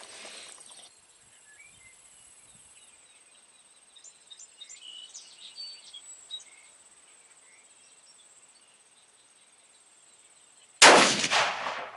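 A Savage Model 12 rifle chambered in 6.5-284 fires a single loud, sharp shot near the end, after a long, quiet outdoor stretch filled with crickets and faint bird calls.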